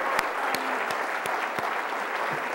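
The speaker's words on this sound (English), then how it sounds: "So one more final round of applause, and we're going to transition into the next panel." An audience at a workforce and green jobs conference session gives a round of applause, steady crowd clapping with several sharp, louder claps standing out near the microphone.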